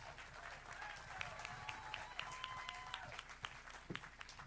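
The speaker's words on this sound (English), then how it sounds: "How about a round of applause for Representative Bell, Toth, and also Bear Prince." A room full of people at a political campaign announcement claps steadily for several seconds, a dense patter of applause with faint background murmuring.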